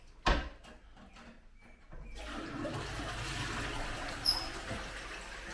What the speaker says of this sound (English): All right, so flush that.